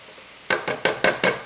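A block of meat cooking in a pan for tomato meat sauce, five quick sizzling scrapes in a steady rhythm, close and fairly loud, with no talking.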